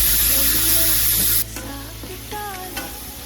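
Ground onion paste fries in a pan for beetroot cutlets, giving a loud, steady sizzle that drops suddenly to a quieter crackle, broken by a few stirring scrapes.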